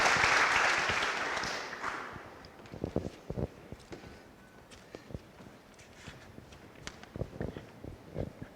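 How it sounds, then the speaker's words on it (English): Applause from an audience at a book launch event in Budapest for Karen Hao's AI book, a loud dense burst at first that thins into scattered claps and shuffling as people settle. "So I would like to give a big applause for our crowd as well."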